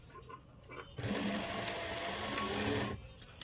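A sewing machine stitches a buckram strip on a lined kurti, running in one steady whirring burst of about two seconds after a few faint handling noises, close and fairly quiet.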